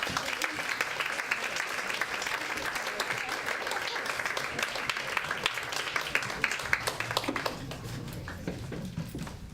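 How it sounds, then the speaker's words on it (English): Audience applause at a talk on sexuality and creativity welcomes the speaker Eva Weaver, a dense, sustained round of clapping with occasional cheers, steady throughout and thinning slightly toward the end. "Big clap"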